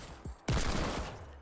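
Gunfire in the video game Fortnite: a sudden loud burst of rapid shots that runs as a dense, sustained volley for about a second after a brief quieter thump.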